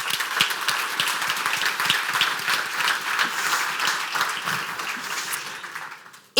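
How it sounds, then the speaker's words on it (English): A conference audience applauds steadily, a dense wash of many hands clapping together that holds evenly for several seconds before cutting off abruptly at the end. "I think we should clap for that."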